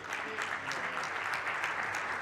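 A conference audience applauds the panelists after a talk on road accident conditions in Mexico, a soft, steady wash of many hands clapping, somewhat distant and even for a couple of seconds.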